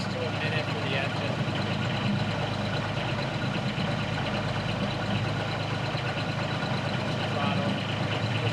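Heavy earth-moving equipment with a blade, at work building a homestead pad, runs its engine at a steady idle. The close mechanical drone continues without a break throughout.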